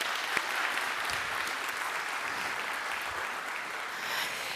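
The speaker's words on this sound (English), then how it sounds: "a big applause for you all" A large audience at a university welcome event in Madrid applauds in sustained, even clapping that fills the room steadily from start to end without a break.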